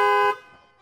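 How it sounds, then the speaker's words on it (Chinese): A single short truck horn blast, set off by two black bear cubs locked inside a truck parked in woods, blares loud and close before cutting off. "空无一人的货车突然传出喇叭声"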